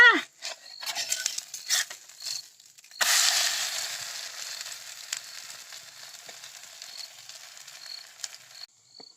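Onion dosa cooks on a pan, giving a burst of hissing sizzle that slowly fades. Brief clatters come first, and a voice can be heard faintly at times.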